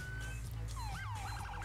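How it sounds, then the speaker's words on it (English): Police car sirens from the video game LSPDFR, California Highway Patrol units, wailing and sweeping up and down, then shifting to a fast yelp, loud and close over a steady low engine drone. "Yeah, those are the sirens."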